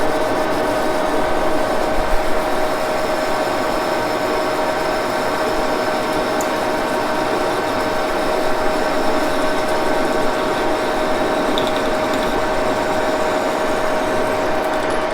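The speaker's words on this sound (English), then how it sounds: "That's a high-speed blade there." A high-speed blade cuts in a Harley Davidson machine shop, working on a crankcase part: a continuous loud mechanical grinding hum with a steady whine running throughout.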